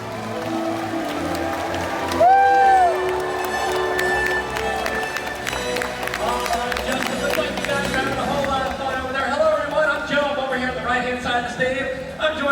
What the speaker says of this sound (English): let's give him a great big cheer